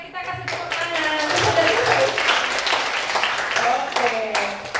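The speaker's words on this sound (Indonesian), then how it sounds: "kita kasih tepuk tangan" An audience at an Indonesian training session claps its hands, a moderate patter of applause running throughout while a voice talks over it.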